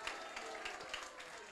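A church congregation applauding during a Spanish-language sermon: a faint, dense, continuous patter of many hands clapping.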